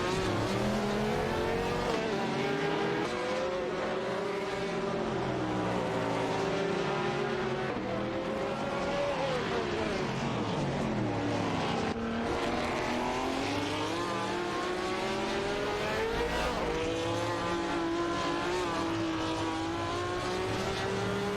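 Race cars, among them a Nissan R382, roar through an AI racing video game, engines whining and shifting pitch continuously as several cars pass close together, loud and unbroken with no voices.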